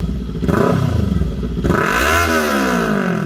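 A sport motorcycle engine revs hard, its pitch climbing and then falling back, loud and close with a gritty mechanical roar.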